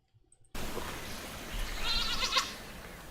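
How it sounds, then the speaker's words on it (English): A goat bleats faintly over steady outdoor background noise in a pasture, a single short, brief call rising out of the hiss after a sudden start. "a bunch of goats"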